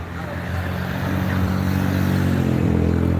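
Busy street traffic with cars and motorbikes rolling past close by, a steady loud engine drone and road rumble that builds slightly over a few seconds, with no voices.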